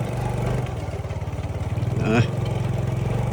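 Motorcycle ridden on a rural farm trail, its engine chugging close with a steady pulsing rhythm that swells into a brief rev before settling back, while someone talks over it.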